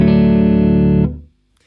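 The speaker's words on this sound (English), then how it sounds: "this is my Tele into my Revv D20 dry" A Telecaster guitar played dry into a Revv D20 amp: one loud strummed chord rings for about a second, then is cut off abruptly with no reverb tail, leaving silence.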